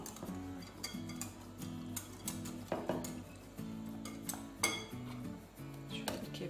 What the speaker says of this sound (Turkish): Bir kepçe daha ilave edeceğim.